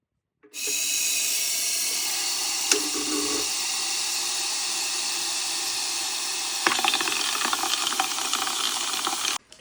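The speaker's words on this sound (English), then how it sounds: "We can put it into the tumbler now and kind of let it stir around in there" A ring tumbling among steel pins in a jewelry tumbler produces a constant loud, hissing rush like running water with a fine metallic rattle, starting abruptly and holding steady, with a slightly rougher clatter toward the end.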